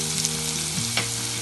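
Peanuts and curry leaves roasting in a pan for upma made from leftover idli, a continuous close frying hiss with a brief stir partway through, no voices.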